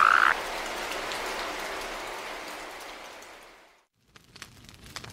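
A toad croaking in a kitchen: a rasping, hissy burst that slowly fades over about four seconds, followed by a brief silence and a few faint clicks.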